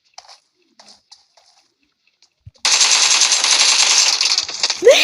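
Rapid automatic gunfire from a first-person shooter video game bursts in loud and sustained after a few faint clicks and taps, running continuously to the end.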